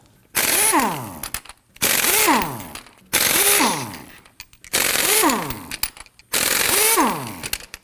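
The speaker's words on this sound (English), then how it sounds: "use our 21mm socket to loosen and remove these lug nuts" A 21mm socket on an impact gun loosens the rear wheel lug nuts of a Nissan Murano, making five loud, rattling bursts, each about a second long, with short gaps between them.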